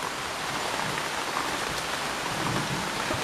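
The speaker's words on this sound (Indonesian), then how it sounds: "hujan nih." Steady rain pours down continuously, a dense, even hiss of drops on surfaces close by with no pauses, a thunderstorm setting, and no voices.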